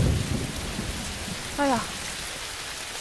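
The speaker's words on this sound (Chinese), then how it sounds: "下雨了呀！" Steady rain hisses continuously with a low rumble of thunder at the start; a brief voiced exclamation cuts in midway over the downpour.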